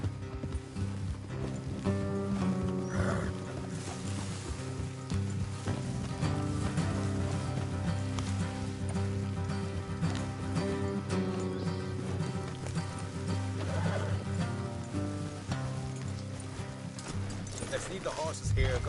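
Horses in Red Dead Redemption 2 clip-clop along at a steady trot beneath continuous talk and background music, with an occasional faint whinny.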